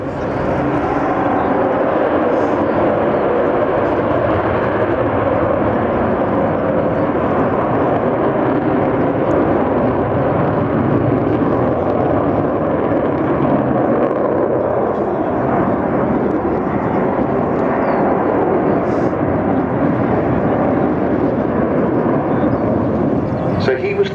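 Avro Vulcan jet bomber flying at the RIAT 2012 air show, a loud continuous roar of jet engines rumbling steadily across the whole stretch without breaks.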